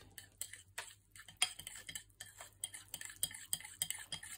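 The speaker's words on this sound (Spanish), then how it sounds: "Se revuelve." Pancake batter made with almond flour being stirred in a bowl, with quick, close scraping and clicking strokes that come in an uneven rhythm of short bursts.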